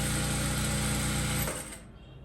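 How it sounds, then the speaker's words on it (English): A sewing machine runs steadily at speed, stitching a one-inch seam on a cowl neck blouse, then slows and stops near the end, leaving a quieter hum. "So I'm sewing that 1 inch."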